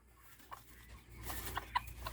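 A broody hen gives a few quiet, scattered clucks and short calls over faint rustling and shuffling, with soft noise in the background.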